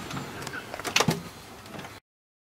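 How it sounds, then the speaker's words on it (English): A bottom sliding door on a travel vehicle glides open, producing a steady rolling rumble with a few small knocks and a louder clatter in the middle before it stops. "when you open up the door."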